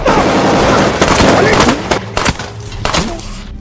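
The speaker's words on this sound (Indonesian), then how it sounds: "Dima yang melihat warga sipil itu ditembak langsung emosi dan membalas tembakan ke arah Gleb." Rapid bursts of loud gunfire in a Russian war film crackle and echo, dense at first then breaking into a few separate sharp shots, with voices mixed in.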